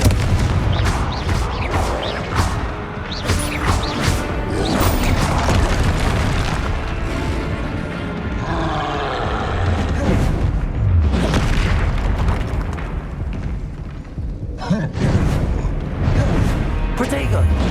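Confringo explosive spells are cast repeatedly in the video game Hogwarts Legacy, with sharp bursts and booming impacts mixed with other spell effects over a continuous game soundscape, and a voice speaks throughout.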